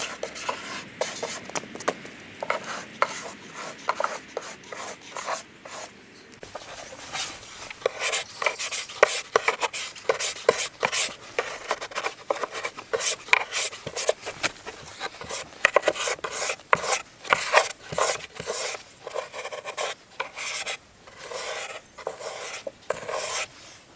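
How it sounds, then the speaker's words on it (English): A brush scrubs the inside of a wooden wild hedgehog house, giving quick, repeated rasping strokes up close. The scrubbing is steady and busy for most of the stretch, with no talking. "And I'm just going to scrub the inside."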